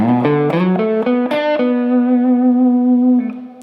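Overdriven electric guitar runs through a short bluesy phrase of picked and sliding notes, then holds a long sustained note that fades at the end.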